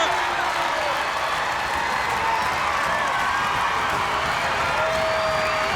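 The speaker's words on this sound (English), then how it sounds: "The crowd is going crazy." Wrestling arena crowd roaring continuously at a WCW event, a dense, loud, unbroken wall of cheering and clapping with faint whistles and shouts layered throughout.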